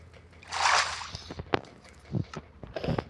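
Splashing water in a video game where a dragon is being fought, a loud broadband splash near the start followed by smaller sloshing hits and clicks.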